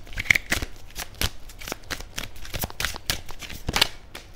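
Tarot cards are shuffled by hand in repeated quick riffles and slaps, close and crisp, with a brief pause between bursts and no talk.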